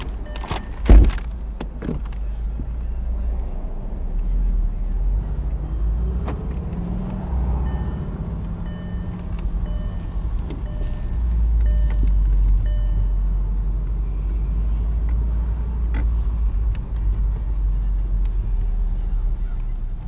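A 2013 Volkswagen Beetle Convertible rolls slowly around a parking lot, its engine a steady low rumble heard from inside, with a sharp knock near the start and faint clicks along the way.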